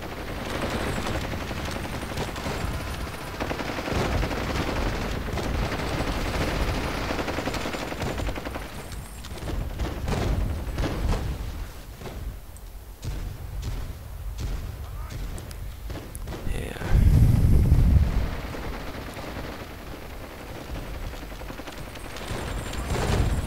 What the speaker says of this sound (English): So we are still firing at the infantry that didn't manage to leave in time.